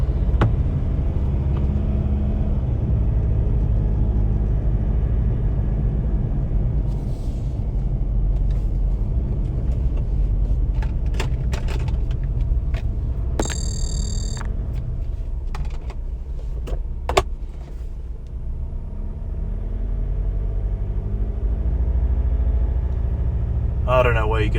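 Cabin noise in a Ford Ranger Raptor diesel driving over cobbles: a loud, constant low rumble and drone with occasional rattles and clicks, a voice speaking briefly over it.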